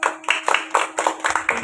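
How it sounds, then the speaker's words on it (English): Audience members at a school quiz competition clap in a quick, bright burst of separate handclaps, close and fairly loud, lasting under two seconds. "Clap everyone."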